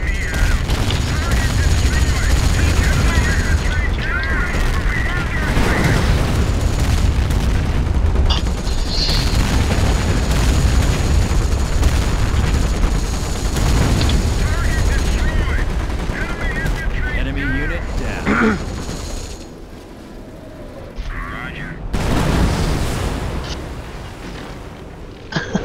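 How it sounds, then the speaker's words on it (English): Artillery strike explosions and heavy gunfire from the WWII strategy game Company of Heroes 1 with the Europe at War mod, a loud continuous battle din of booms and rattling fire that thins out near the end, with some talk mixed in. "doing another victory strike on the HQ. Try to back away. The artillery might hit you."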